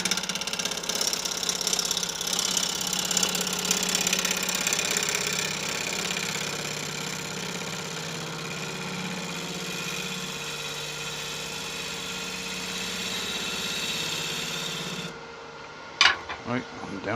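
A wood lathe hums steadily as a gouge cuts a Balinese teak winged vase, giving a continuous close scraping rasp over the motor. The cutting halts near the end, leaving a few sharp knocks.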